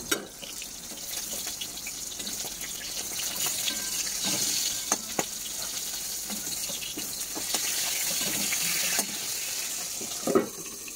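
Spices sizzle in hot oil to temper mung lentil dal, a steady bright crackle and hiss that goes on throughout, with a few louder pops and clatters and some stirring. No one talks.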